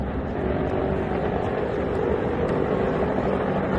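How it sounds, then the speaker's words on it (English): Marine Corps Viper and Army Apache attack helicopters during a combat strike on ground targets, giving a steady, loud rotor and engine roar that holds unbroken throughout, with no voices. "Combat footage showed Marine Corps Viper and what appeared to be Army Apaches striking ground"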